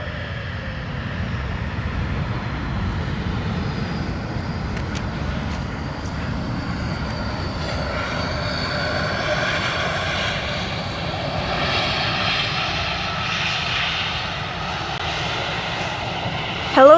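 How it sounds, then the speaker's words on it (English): A JetBlue airliner arriving from Boston at Amsterdam Schiphol Airport, its engines giving a loud, continuous jet roar that holds steady throughout, with a brief louder bump at the very end. "this is JetBlue and is flying in from Boston"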